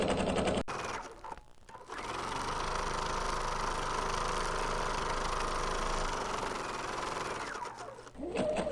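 A sewing machine stitches a quilted self-binding placemat in orange thread, running steadily and close for several seconds, with brief stops at the start and the end.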